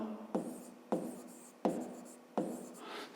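Pen strokes on paper during a fifth-grade maths exercise, four distinct scratchy bursts of writing at a steady pace, close and fairly quiet, with no talk over them.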